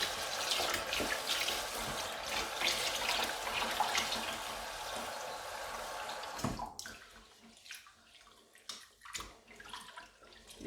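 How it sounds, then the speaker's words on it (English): Rice washed in water in a pot, sloshing and swishing close by, continuous at first, then broken into separate splashes and drips after a sudden stop. "It's important to make sure that we wash away the starch so that the rice don't stick together"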